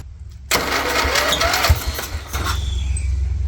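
A Wheel Horse 211-5 garden tractor engine cranks and catches after a brief quiet moment, then runs loudly and roughly close by, with a steady low rumble and uneven bursts as it settles.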